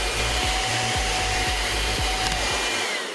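A household vacuum cleaner runs loud and close with a steady, even whine and rushing airflow, over a low rhythmic thumping. No one speaks.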